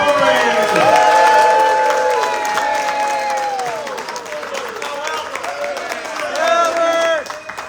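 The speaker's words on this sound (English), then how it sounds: "Let's give a thunderous round of applause to Mr." A large audience gives loud, sustained applause with cheering and whoops for Albert Corey at a live event, with a held musical tone and an announcer's voice over the crowd noise.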